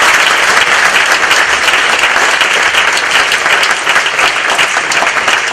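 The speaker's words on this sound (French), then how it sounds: "tu as raison, on peut les applaudir" An audience at a book-award ceremony at a conference applauds in steady, dense clapping that runs loud and unbroken throughout.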